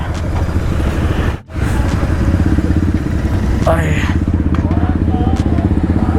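A GT 650 motorcycle on its stock exhaust rumbles loudly and steadily nearby in rainy conditions, with a brief cut in sound early on and voices talking over the engine.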